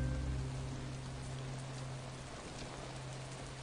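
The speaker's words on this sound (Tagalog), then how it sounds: "lakas ng ulan eh." Heavy rain pours down in a steady, dense hiss with a faint low hum underneath, unbroken from start to finish and with no voices.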